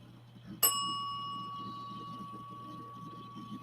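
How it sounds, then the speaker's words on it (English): A single bell rings with a sharp clear strike, its pure tone ringing on and slowly decaying over a low background hum and faint murmur. "can you ring the bell for Becky?"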